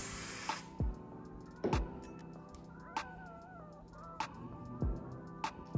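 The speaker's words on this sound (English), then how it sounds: "Be careful when you spray, guys." Holding spray hisses onto a bald cap in a few short bursts, with sharp clicks and taps from handling the can between sprays, close up and quiet.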